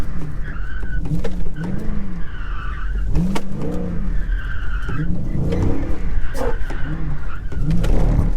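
An SRT car drifts through a turn and tries to spin out. Repeated loud tire squeals rise and fall in wavering bursts over a running engine, with some voices heard in the background.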